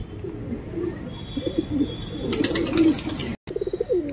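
Pigeons in Vellore coo close by in soft, repeated throaty rolls, several calls in a row over a busy background hiss.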